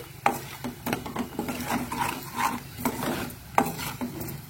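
A spoon scrapes and swirls through bone soup rasam with ghee in a cooking pot, producing steady soft rubbing and stirring strokes with occasional light clinks against the metal.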